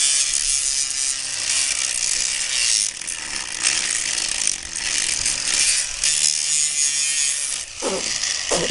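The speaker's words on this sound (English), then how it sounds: "grab your standard issue grinder" An angle grinder working on metal before welding, a steady loud, close, harsh whine and grinding hiss that runs almost unbroken for several seconds, with no talk.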